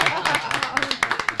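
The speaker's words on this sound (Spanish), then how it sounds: "Un aplauso." A few people clap on a live Spanish-language radio show, sharp irregular claps close to the microphone in a short burst, with voices mixed underneath.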